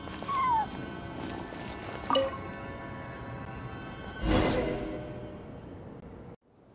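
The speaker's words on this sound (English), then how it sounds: "I followed the cat's cries" A cat in Genshin Impact meows several times, faint cries spaced apart with a louder burst near the end, before the sound cuts out abruptly.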